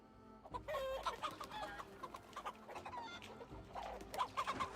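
Chickens clucking repeatedly in Assassin's Creed Valhalla, a busy run of close, choppy clucks and squawks with no talking.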